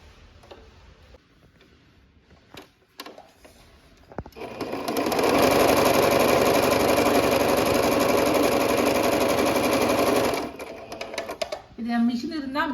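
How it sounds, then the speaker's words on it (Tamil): Sewing machine stitching a homemade cloth napkin pad, a steady loud rapid whir running for several seconds after brief handling clicks, then stopping, with a voice talking at the end. "இப்போ நான் எப்படி தைக்கிறேன்னு பாருங்கள்"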